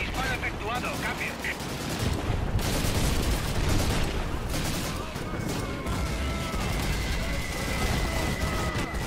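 Artillery and gunfire in the PC game Call of Duty 2 during a base defence against tanks, a continuous roar of rumbling blasts and rattling shots with shouted voices mixed in, loud and dense throughout.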